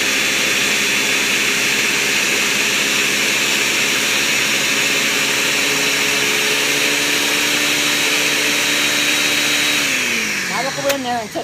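A food processor grinds cashews into cashew butter, a loud steady whining motor drone that holds constant before sputtering and clattering to a stop at the end.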